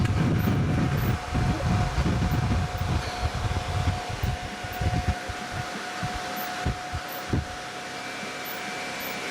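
A 0.75 kW Mechtric three-phase electric motor runs at high speed with a steady hum and whine, its level holding constant for the whole stretch while a faint knocking drifts in underneath.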